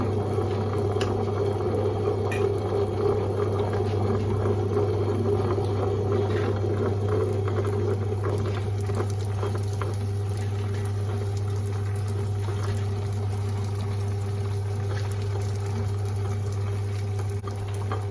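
A wet grinder churning a batter of millet, fenugreek and urad dal gives a steady, continuous whirring drone with a liquid churning texture, close and unbroken throughout with no talk.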